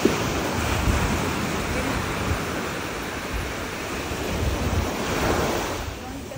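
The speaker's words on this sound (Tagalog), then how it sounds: "Dagat." Sea waves wash and roll steadily, with wind buffeting the microphone throughout and no clear breaks.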